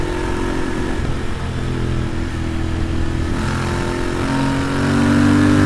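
A Royal Enfield Interceptor 650 motorcycle engine accelerates progressively, a loud, close, continuous drone whose pitch climbs gradually and swells toward the end.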